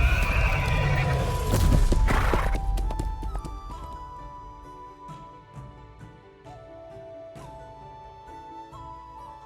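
A horse in the video game Love and Deepspace lets out a loud, shrill whinny, followed by quieter snorts and a few clip-clop hoof sounds amid soft game music.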